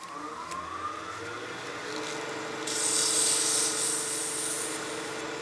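Steady abrasive rubbing of sandpaper on a wooden spinning top on a lathe, over the lathe's whirring hum, growing brighter and louder partway through.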